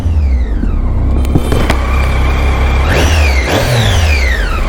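A Triumph Tiger 800 three-cylinder motorcycle engine blips its throttle in a short rev burst, rising whine sweeping up twice near the end over a steady idle rumble, close and loud.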